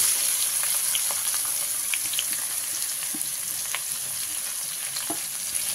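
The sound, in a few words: onion frying in oil with cumin and bay leaf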